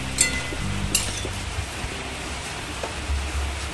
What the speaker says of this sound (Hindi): बहुत तेज़ बिजली चमक रही, इसका मतलब बारिश बहुत तेज़ आएगी। मतलब आएगी क्या, आ रही है।